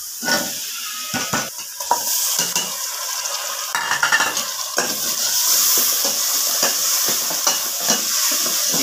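Chicken fries in a pan with a continuous sizzle and hiss, broken by frequent scraping and clinking as a utensil stirs the pieces against the metal, close and without talk.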